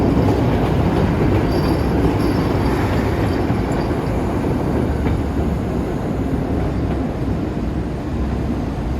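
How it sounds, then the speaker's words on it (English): A Chicago CTA Brown Line train rolling along the track on a rainy day, with a loud continuous roar of wheels on rails and faint squealing, alone without talk. "As that brown line train heads north."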